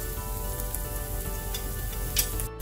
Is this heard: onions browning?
yes